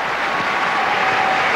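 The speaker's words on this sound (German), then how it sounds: "Jeder Punkt wird jetzt von rhythmischem Klatschen begleitet." A tennis crowd at the 2003 Hamburg tournament applauds as a dense, steady wash of clapping filling the whole moment, loud and continuous with no voices standing out.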